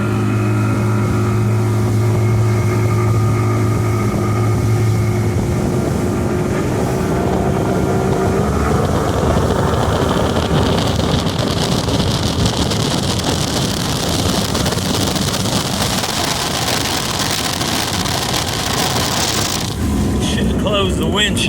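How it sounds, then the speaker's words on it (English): Outboard motor on an all-original 1996 Champion 192 SF bass boat running at speed, a steady loud engine drone mixed with rushing wind and water noise throughout, with a brief louder gust near the end. "Here's the motor running."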